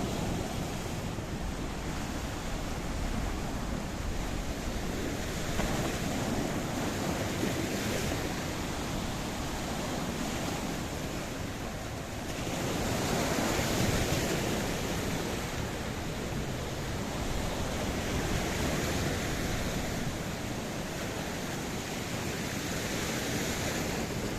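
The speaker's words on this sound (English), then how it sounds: "the next wave, there's no doubt about it, is going to come and clip this little pathway" Mediterranean Sea waves break against a pier at Kissonerga, Paphos, Cyprus, producing a continuous loud wash of surf and wind with gentle swells in intensity and no voices.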